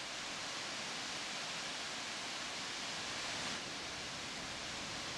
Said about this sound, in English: A while into the ride, I come upon a waterfall that captivates my eyes and ears.